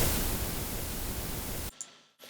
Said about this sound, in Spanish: Un hiss de cinta, o sea, un zumbidillo de cinta.